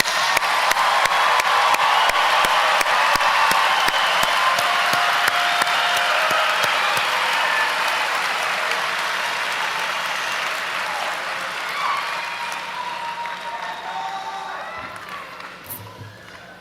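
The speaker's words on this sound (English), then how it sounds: "How about one more round of applause for our graduates?" Commencement audience applauding graduates at an in-person Purdue Global ceremony, a dense, sustained wash of clapping from a large crowd that holds steady for the full stretch and slowly thins toward the end.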